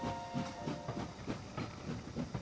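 A railway train in the Anno 1800 city-building game rumbles along with a steady, rhythmic clickety-clack of wheels and a hissing, steam-like wash, moderately loud and continuous.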